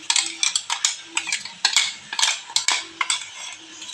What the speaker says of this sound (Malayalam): നമ്മൾ നാളികേരം ചീനമുളകും ഉള്ളി ജീരകം പൊതിക്കിയത് ഇടുന്നു കേട്ടോ ഇത് ഇളക്കണം